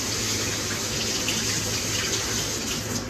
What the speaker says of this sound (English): So let me rinse off my fingers.